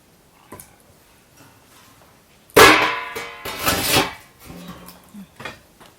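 Potatoes cut into chunks with a knife for a home-style meat and potato roast in a village kitchen: one sharp, loud chop on a wooden surface, then a few softer knocks and taps nearby, with no speech.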